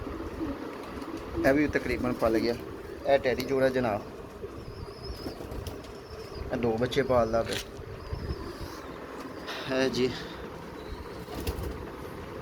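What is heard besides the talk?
pigeons cooing and flapping wings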